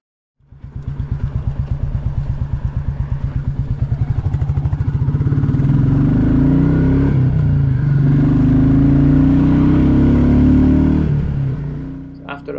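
Royal Enfield Classic 350 single-cylinder motorcycle riding a coastal road toward Aberlady, its engine thumping steadily from idle into a loud, sustained drone, close and continuous, then easing off near the end.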